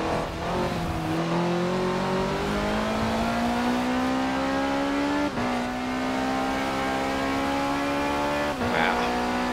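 A stock 1985 Ford RS200 Evolution all-wheel-drive rally car in Forza Horizon 4, heard from the cabin: a loud, continuous engine note rising steadily through the gears, with brief dips at shifts and some tire noise.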